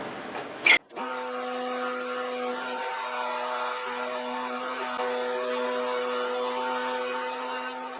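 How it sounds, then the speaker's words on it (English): A wood router cuts a rabbet into the top and bottom edges of a handmade wooden gift box. A sharp knock comes first, then the router whines in a steady, loud, high-pitched tone that runs unbroken to the end. "what I want to do is get my router, and I want to router a rabbet on the top and bottom"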